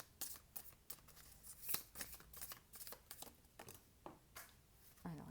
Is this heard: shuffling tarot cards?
yes